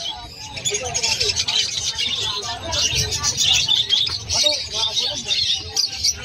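Finches in an aviary chirp and tweet in a busy, continuous chatter of high calls, with people talking nearby underneath.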